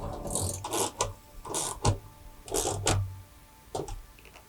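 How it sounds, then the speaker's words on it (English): A ratchet tightening two 12mm bolts on a rear MOLLE panel in a Toyota Tacoma Access Cab, heard as short bursts of clicking separated by brief pauses, fairly quiet and close, with no talk. "Now I'm tightening it down with a ratchet."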